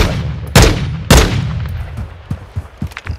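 Gunfire in Call of Duty MW2: two loud, sharp shots ring out close by early on, followed by a string of quieter, more distant pops toward the end.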